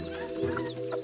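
Pet chickens cluck in a steady, close stream of soft calls with a few higher squawks, heard outdoors in a mountain setting with no talking.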